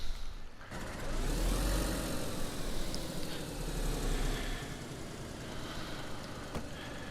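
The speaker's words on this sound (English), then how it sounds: "So let's press R2 to start the engine." The OLGA 24 car engine in DayZ cranks and catches, then settles into a steady, loud rumbling idle with a constant low drone and no talk over it.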